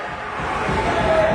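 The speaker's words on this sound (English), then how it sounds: "Everybody on the far team is cheering." Crowd noise from the far side of an ice hockey rink at a 16U elite game, a broad steady roar of cheering that swells slightly toward the end, heard from a distance.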